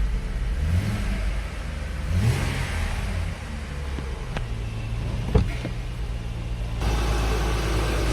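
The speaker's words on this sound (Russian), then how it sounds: "Двигатель запустился." A Mercedes-Benz E350 engine running just after a jump-started cold start in a repair shop, a steady mid-pitched hum with a couple of brief rev swells and a sharp knock partway through.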